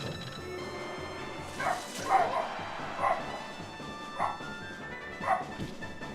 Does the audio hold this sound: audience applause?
no